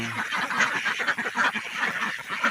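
Ducks kept for egg laying quack steadily and close by, a dense overlapping flock chorus filling the whole stretch with no talk.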